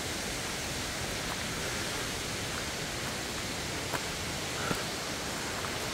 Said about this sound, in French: Vous avez la deuxième et la troisième cascade ici.